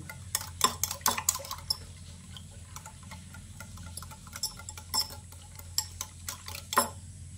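A spoon stirs semolina and egg batter in a bowl, making irregular light clinks and taps against the sides with a soft wet swirl beneath, close and fairly quiet, with no talking.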